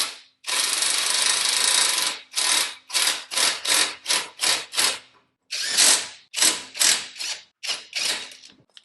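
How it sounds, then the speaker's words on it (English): An impact wrench rattles 19mm brake caliper bolts into a 2006 Honda Odyssey during a front brake job, one long burst followed by a string of short hammering bursts with brief pauses between them, loud and close. "So I'm going to run those in with the impact,"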